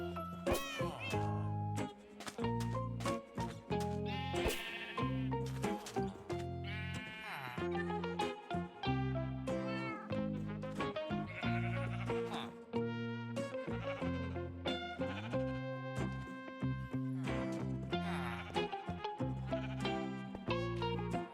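Video game sheep bleating over and over from a wool farm build, the wavering cries coming in dense, overlapping bursts alongside upbeat in-game music.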